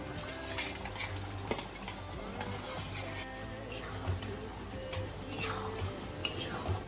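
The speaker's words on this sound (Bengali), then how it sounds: "একটু আলতো হাতেই নাড়াচ্ছি" Chana paneer with fried paneer cubes is stirred gently in a pan, producing light metallic clinks and scrapes of a spoon against cookware. The taps recur irregularly over a low background hum.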